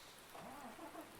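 Rain falls steadily in the farming video game Farming Simulator 19, a soft, faint hiss of drops heard alone.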